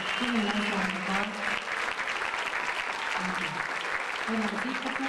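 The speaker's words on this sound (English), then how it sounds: "Give me a nice round of applause." An audience at a school band concert applauds steadily for fifth-grade players, a dense, fairly distant wash of clapping with a few voices calling out over it.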